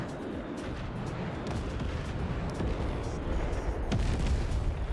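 A dense, continuous rumble of bombing and booming impacts from the Forts real-time strategy game, with overlapping explosions and a few sharper blasts rising toward the end, with no speech.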